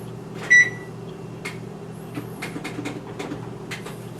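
A kitchen oven is set to preheat, with one sharp electronic beep near the start followed by a steady low hum and scattered soft clicks and knocks, fairly close.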